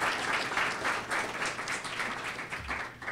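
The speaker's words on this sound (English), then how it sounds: "if we could give them a round of applause" Applause from an audience at an urban innovation symposium keynote, a dense steady patter of many hands filling the room for about three seconds with no voices over it.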